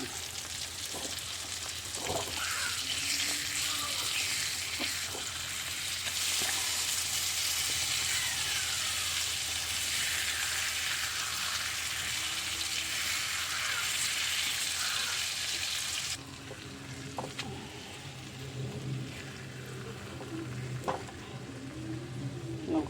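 Mackerel fish frying in hot oil in a pan, a steady broadband sizzle and crackle that runs continuously and fairly close, dropping somewhat quieter partway through.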